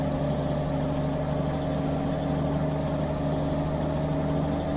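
A 310 hp Iveco truck hauling a 95-ton load in Euro Truck Simulator 2 holds a steady, droning engine note with strong low harmonics, continuous and fairly quiet, with no speech.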